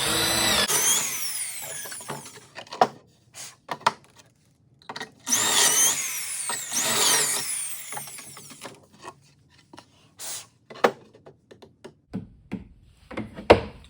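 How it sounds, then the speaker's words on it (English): Power drill boring holes into a wooden cabinet board, with several bursts of whining drilling, the longest about two seconds, broken by short pauses and clicks of handling, close and loud in a workshop. "when I drill this hole and this board is in my corner clamps, I can still drive a screw into here"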